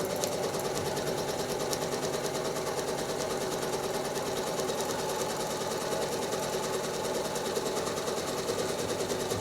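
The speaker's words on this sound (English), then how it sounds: "And now I'm going to just stitch right through the middle of that open" A sewing machine stitches through a four-patch quilt block in a steady, fast mechanical chatter that runs unbroken and close-up from start to end.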